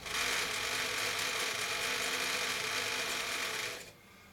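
A PMZ-1A sewing machine with a thick needle and heavy thread stitches through about five thick layers, running loud and steady with a dense mechanical whir for nearly four seconds before stopping abruptly.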